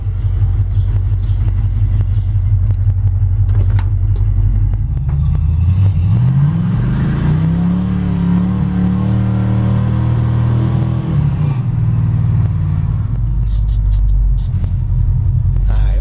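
A 318 V8 in a drag truck with a Holley four-barrel carburetor idles with a loud, close, lumpy rumble, then revs up in a rising sweep that holds for several seconds before dropping back to idle.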